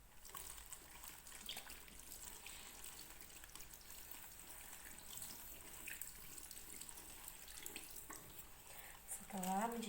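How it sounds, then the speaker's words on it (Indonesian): Running tap water streams steadily while hands are washed beneath it in the six-step handwashing routine, a soft continuous splashing with a voice starting to speak at the very end. "kita lanjutkan mencuci tangan di bawah air mengalir"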